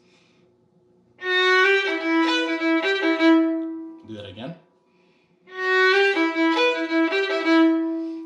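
Two phrases of bowed fiddle playing the Swallowtail Jig, with swooping slides on one long down bow into long sustained notes, separated by a short spoken remark.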